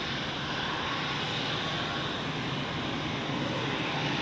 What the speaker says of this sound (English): we expect the American Dreamliner to appear soon